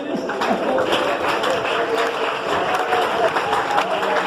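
Church congregation clapping in steady worship applause, a dense continuous patter from many hands filling a large room, with voices mixed in throughout.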